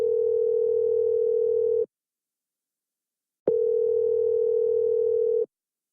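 Two long steady telephone ringing tones, each about two seconds, separated by a pause, loud and clear with no talking.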